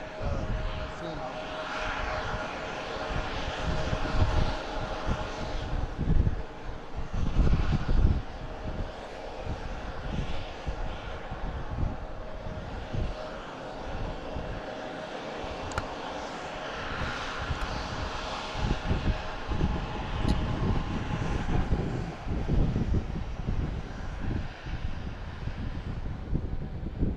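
An Embraer Phenom business jet is heard at a distance across Harrisburg's MDT airport, its engines a steady, broad roar with wind buffeting the microphone and voices talking intermittently over it.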